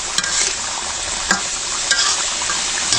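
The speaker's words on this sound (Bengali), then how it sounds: "এখন এটাকে ভাজা ভাজা করতে হবে।" Wet food is fried and stirred in a pan over a clay stove to dry it out, a constant close sizzle with a few sharp scrapes of the spatula and no talk.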